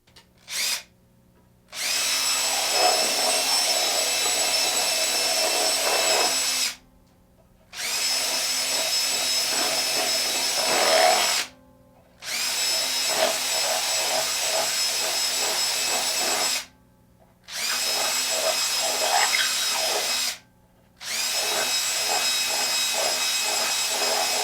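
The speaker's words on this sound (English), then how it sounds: "I have to drill these little peg holes in" A power drill boring a 10mm hole and small peg holes in a Squier Affinity guitar body, running in five long steady whining bursts separated by short pauses, close and loud.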